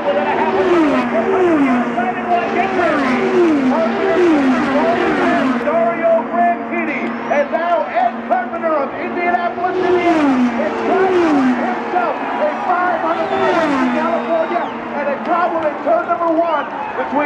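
IndyCar race cars scream around the oval at the MavTv 500 in a loud continuous roar with rising and falling engine pitch as cars pass, and race commentary runs over the top.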